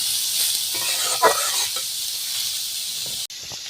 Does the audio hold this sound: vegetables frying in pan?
yes